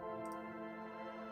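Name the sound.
soft piano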